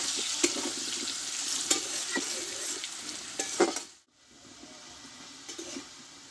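Potato pieces with a little turmeric frying in oil in a pan, a soft steady sizzle broken by scraping stirs and clinks of a spatula, dropping briefly to near quiet before the frying resumes.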